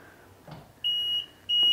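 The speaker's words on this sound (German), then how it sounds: "Das Piepsen, was wir jetzt hören, ist mit Absicht ein Alarm, dass ich einfach weiß, die Aufbautür ist offen, aber die Treppe ist eingefahren." A Concorde Centurion motorhome on a Daily chassis gives a warning beep for an open entry door with retracted steps: two short, clear electronic tones, the second following after a brief pause, alone in a quiet interior.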